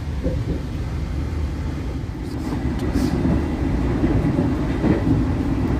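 Argo Bromo Anggrek new-generation express train running at high speed, heard from inside the carriage as a steady low rumble and rolling hum that swells slightly toward the end.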